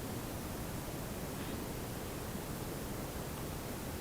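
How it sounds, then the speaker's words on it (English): White noise played by a Google Home smart speaker, a steady, even hiss with no variation across the whole stretch, fairly quiet and heard alone. "Okay Google, play white sound."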